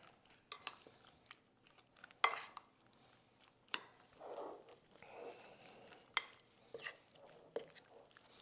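Spare ribs are tossed by hand or spoon with salt, pepper and flour in a bowl, making quiet intermittent clinks and soft rustling bursts with gaps between them.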